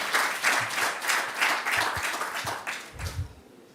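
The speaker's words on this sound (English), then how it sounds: "could we please clap?" Audience applause at the France pavilion of the COP28 climate conference, a few seconds of steady, moderately loud clapping from a crowd that tapers off at the end.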